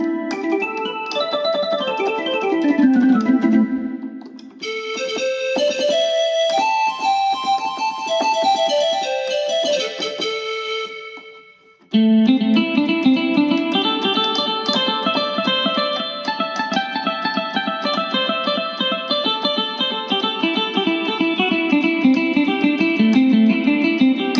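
A Yamaha PSR electronic keyboard demo plays bright synthesized melodies with effects, shifting voices partway through, loud and continuous with no talking.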